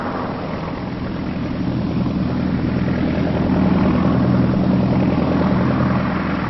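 A de Havilland Chipmunk primary trainer aircraft's propeller engine drones loud and steady, swelling slightly in power as it takes off, with no other sounds over it.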